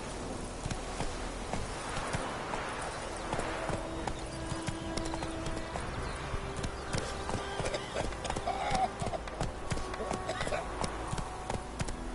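Roach, Geralt's horse in The Witcher 3, trots with steady, rhythmic clip-clopping hooves at moderate distance, a continuous gait heard alongside spoken dialogue.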